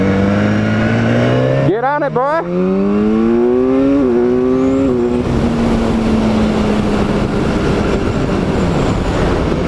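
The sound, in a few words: 2015 BMW S1000R motorcycle accelerating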